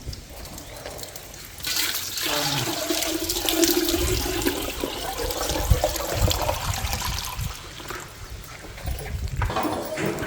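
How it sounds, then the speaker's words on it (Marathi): Water drawn from a well being poured out, a close, steady gushing splash that starts after a brief pause and runs continuously, with small surges in volume and no talk over it. "हे बघा याने पाणी काढलंय."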